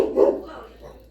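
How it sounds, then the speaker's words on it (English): A household dog gives a single close, loud bark from indoors, facing a big front picture window, and the sound then fades out quickly. "And the dog sees everything, and they bark at everything."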